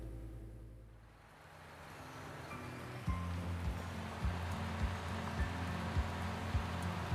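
Steady rain falls across a farm field in Farming Simulator 19, a soft broadband hiss that swells in from near silence, joined after a few seconds by a low, pulsing rumble.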